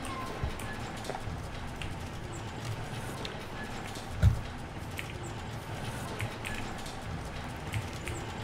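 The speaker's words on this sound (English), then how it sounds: "Never-ending rain." Steady rain falls continuously in the Resident Evil 2 Remake video game. It makes a dense, even hiss with scattered drops and one brief, louder thump partway through, and no one speaks.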